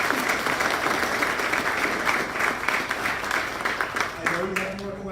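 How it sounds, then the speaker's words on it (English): A crowd at an evening real estate investor meetup applauds a short-term rental panel with steady, dense clapping for several seconds. It thins near the end as a voice begins to speak. "let me get a big round of applause for these"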